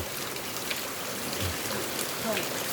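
Steady rain falls on a Thai street, a dense even hiss of drops on surfaces running throughout, with faint voices in the background.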